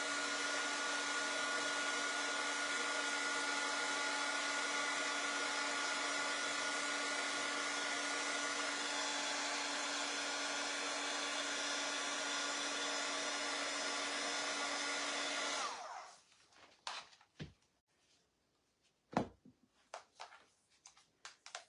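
A hair dryer blows steadily and loudly for about fifteen seconds while drying chalk paste on craft house cutouts, then cuts off, followed by a few quiet handling clicks and knocks.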